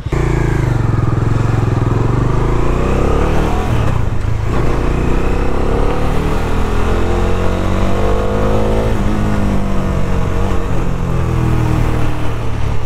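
A modified Bajaj Dominar 400 motorcycle engine drones loud and close for the whole stretch, holding a steady throbbing note, then revving higher partway through before settling again.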